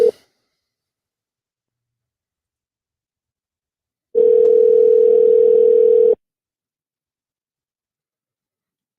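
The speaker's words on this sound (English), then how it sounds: "Do you hear a ring?" A phone call rings back in the earpiece, one steady electronic tone held for about two seconds between long stretches of silence.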